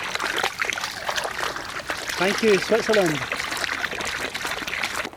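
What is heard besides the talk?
fresh mountain water trickling beside path in Switzerland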